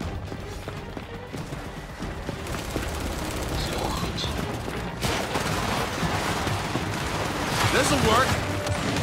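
Rapid bursts of turret gunfire and explosions in the shooter game Gears 5, loud and sustained, with shouted voices mixed into the battle.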